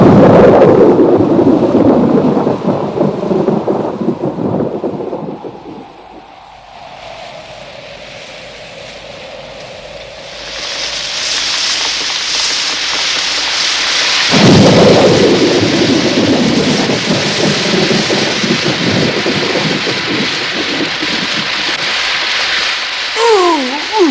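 Heavy thunder rolls and rumbles over steady rain and wind in a long, loud stretch, with a second crack and rumble partway through and the storm washing on continuously.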